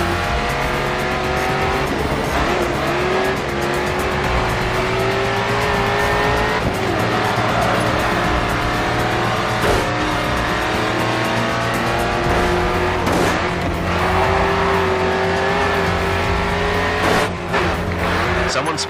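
Race cars in the GRID 2 racing game roar continuously with loud engine drone and shifting revs, brief tire squeals and skids as a car spins out ahead, under occasional spoken race commentary.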